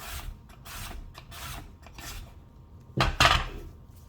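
Japanese rotary slicer shredding carrot into thin strips, a series of soft repeated scraping and clicking turns, then a louder sharper clatter near the end, with no talk.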